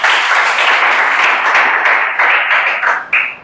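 Classroom students clap together during a lesson, a dense burst of applause lasting a few seconds that thins toward the end, with a few separate claps in the final moments.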